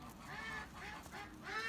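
Geese honking outside a coop on a winter morning after a 24-hour blizzard in the Saco River Valley: several close, repeated nasal calls in uneven bursts over a steady outdoor background, with no talking.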